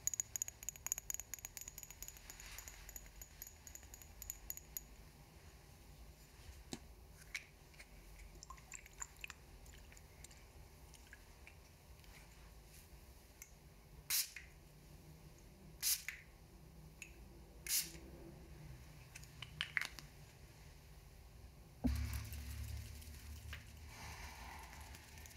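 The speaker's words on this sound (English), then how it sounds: "with my little spray." Several short hissing bursts from a spray bottle onto hair, close and crisp, scattered among quiet handling noises and soft rustling, with a heavier rustle near the end.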